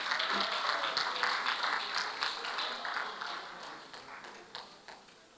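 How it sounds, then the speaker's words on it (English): Applause at a university long service awards ceremony for a staff member honored for 14 years of service, a full crowd clapping steadily at a moderate distance and slowly tapering off. "Round of applause, please."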